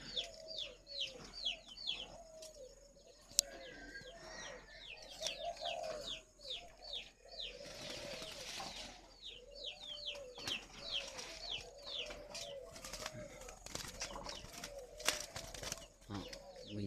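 Young turtle doves at a bird farm coo steadily in overlapping, rhythmic phrases, with chirps from other birds around them and a brief burst of broadband noise partway through; the calls are moderately close and fill the whole stretch without talk.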